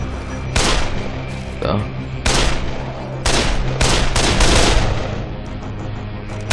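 Rifle fire in the zombie video game Dead Island, several loud, sharp shots in irregular bursts with booming tails, while someone speaks over the action.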